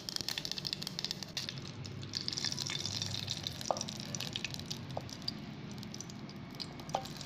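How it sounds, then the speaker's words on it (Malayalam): Mustard seeds and curry leaves tempering in hot oil give a steady close sizzle and hiss, with a few sharp pops as the seeds burst. "കടുക് ഇട്ട് കൊടുക്കാം. കറിവേപ്പിലയും ഇട്ട് താളിച്ച് നമുക്കതൊന്ന് മൂടി വയ്ക്കാം."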